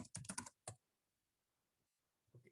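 Keys clatter on a computer keyboard up close: a quick burst of several keystrokes, a lone tap, a long quiet pause, then a couple more taps.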